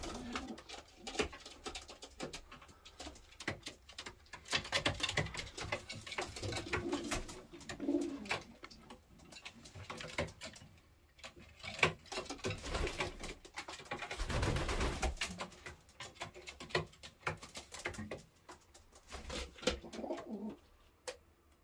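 Racing pigeons coo softly and repeatedly inside a pigeon loft, a low, quiet, continuous murmur of calls with faint rustling and no talk.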